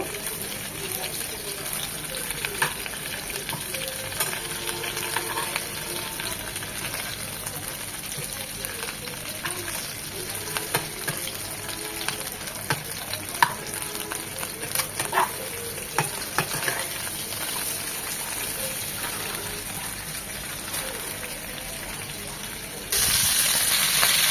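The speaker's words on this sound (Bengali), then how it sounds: "ডিমটা মচমচে করে ভেজে নেব।" Egg frying crispy in hot oil in a pan, a continuous close sizzle with occasional stirring scrapes and spatters, steady in level throughout.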